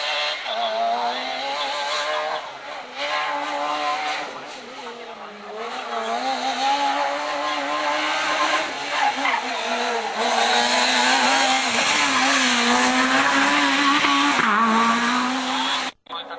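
Rally cars on a special stage of the 2009 Rally Príncipe de Asturias, including a Grande Punto Super 2000, with loud high-revving engines rising and falling as they blast past, tires squealing, and a commentator talking over the roar.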